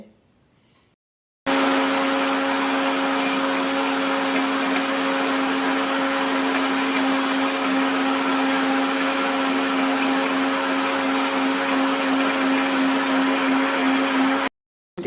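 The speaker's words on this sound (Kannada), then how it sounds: "ಇವಾಗ ನಾನು ಇದನ್ನು ರುಬ್ಕೊಂಡು ಬರ್ತೀನಿ" A kitchen mixer grinder runs loud and steady for about thirteen seconds, grinding cooked tomato and potato masala with a continuous droning whine, starting abruptly after a short quiet stretch and cutting off at the end.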